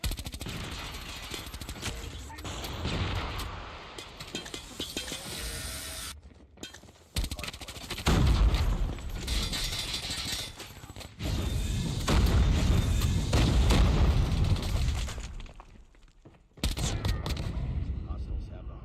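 An MSMC submachine gun fires rapid automatic bursts in a Call of Duty Hardpoint match, mixed with other gunfire, explosions and game announcer callouts, with a player talking over the noisy, dense action.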